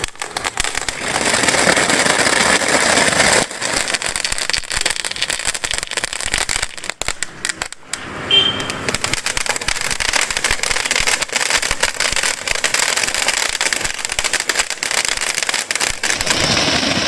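Sivakasi firecrackers burst in a dense, continuous crackling barrage, loud and close, with rapid sharp pops over a broad hiss and a brief lull partway through before the crackle resumes.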